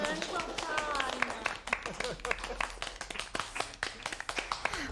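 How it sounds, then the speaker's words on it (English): An audience in a hospital setting applauds, with scattered, uneven hand claps over background chatter and voices that fade into sparser clapping toward the end. "Come on, applaud yourselves."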